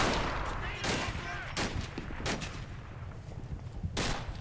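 Gunfire in the World War II Normandy game Combat Mission Battle for Normandy: several sharp, loud shots crack out at irregular intervals over a steady rumbling battlefield din.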